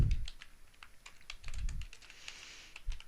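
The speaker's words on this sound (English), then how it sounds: "when you start typing in" Fingers type on a computer keyboard, making quick, close, uneven key clicks with a few heavier thumps in between, and no voices.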